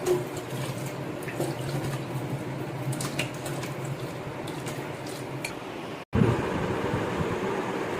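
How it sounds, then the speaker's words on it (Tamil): Water poured to rinse falooda vermicelli runs in a steady splashing stream with soft squishy sounds as the strands are swirled, cut off by a brief break before a louder rush of pouring resumes. "கொஞ்சம் தண்ணி ஊற்றி அலசிக்கலாம்"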